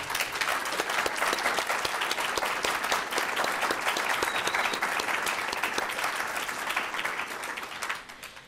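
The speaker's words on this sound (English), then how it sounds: "I think we ought to applaud them all" Sustained applause from a conference audience at a closing session on cultural landscape preservation, a full even roar of many hands that holds steady and then drops off at the end.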